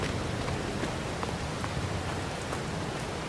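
Steady rain falling in the Farming Simulator 22 video game on a Missouri farm, a continuous even hiss of drops that stays constant throughout with no voices.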